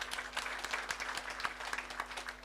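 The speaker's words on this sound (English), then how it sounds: "Let's give him a hearty clap." An audience at a university graduation ceremony claps steadily, a dense, sustained patter of many hands with a low electrical hum underneath.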